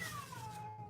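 A house cat gives a single drawn-out meow, close and clear, its pitch sliding downward over about a second with no talking.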